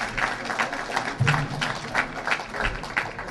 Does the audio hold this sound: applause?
yes